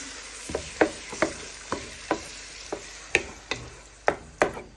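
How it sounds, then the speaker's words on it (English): Chopped tomatoes fry in a pan, a soft sizzle under about a dozen sharp scraping knocks as a spoon stirs and breaks them down at an irregular pace, close up. "Now you want to add in your chopped tomatoes. You want to break that down."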